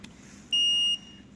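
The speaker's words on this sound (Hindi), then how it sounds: "तो इसको हम बजर की सेटिंग पे लगाते हैं" A multimeter set to its continuity buzzer setting, used while testing components of a Voltas Beko 8-place dishwasher, gives one steady high-pitched beep lasting about half a second over low background hum.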